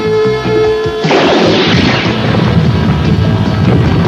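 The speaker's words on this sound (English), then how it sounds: "Look out! It's a sand torpedo!" A cartoon sand torpedo fires in an animated series: a musical tone gives way to a sudden loud whooshing blast and a sustained rushing, roaring rumble, with no talk.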